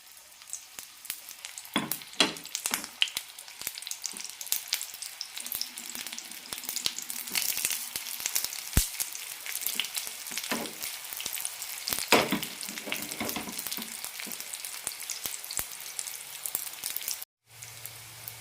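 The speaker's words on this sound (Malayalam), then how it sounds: "ഇനി ഇത് ഷാലോ ഫ്രൈ ചെയ്തെടുക്കാം തവയിലോ പാനിലോ വറുത്തെടുക്കാം" Sweet potato and wheat flour snacks shallow frying in a tablespoon of ghee on a pan, giving a steady close sizzle throughout with a few louder crackles and scraping turns of the pieces.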